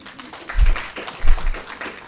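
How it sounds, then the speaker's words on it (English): Audience clapping at a women's event, coming in two short bursts of applause separated by a brief lull, fairly close and moderately loud. "we clap for you"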